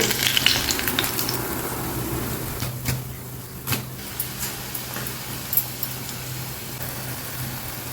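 Eggplant bajji deep frying in hot oil, a steady crackling sizzle with occasional louder pops and stirring clicks, close and continuous with no talking.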